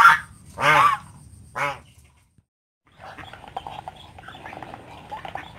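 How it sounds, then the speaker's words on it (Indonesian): Geese and jumbo muscovy ducks kept together in one pen give three loud honks up close, then a pause, followed by softer scattered quacks, rustling and shuffling. "menyatukan antara angsa dan entok jumbo di satu kandang ini"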